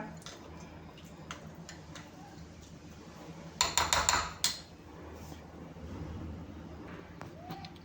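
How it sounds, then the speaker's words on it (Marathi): A spoon stirs homemade chutney with lemon juice in a bowl, giving soft intermittent clicks and a brief louder burst of scraping and clinking partway through, with no talk. "आता परत छान मिक्स करून घ्यायचं"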